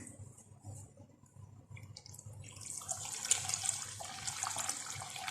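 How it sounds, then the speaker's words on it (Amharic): Water pouring into a pot for a chocolate cake mixture, starting as a quiet trickle and swelling into a steady splashing stream that grows louder and brighter over several seconds. "ውሃ ጨምራለሁ።"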